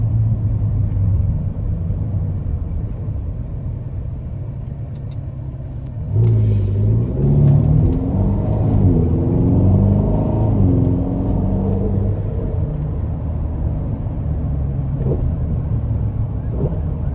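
A 2015 Ferrari California T rumbles steadily from inside the cabin, its engine note rising as it accelerates midway before easing back to a cruising drone.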